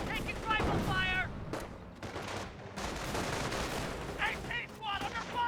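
Rifle fire crackles in the WWII strategy game Company of Heroes, a dense run of small-arms shots amid battle din, with short chirping unit sounds at the start and near the end.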